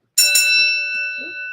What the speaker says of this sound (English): ring that bell, because that's your notification bell